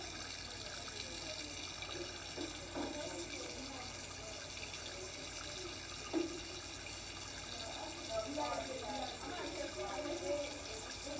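Tap water runs softly and steadily into a sink while hands are rinsed after scrubbing, a faint continuous stream with occasional light splashes.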